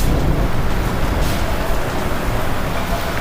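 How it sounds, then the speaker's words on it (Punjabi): Dense, loud rain hisses without a break onto ripe wheat fields, a steady wash of noise with no voices over it. "ਦੇਖੀ ਕਿੰਨੀ ਤੇਜ਼ ਬਾਰਿਸ਼ ਹੋਗੀ"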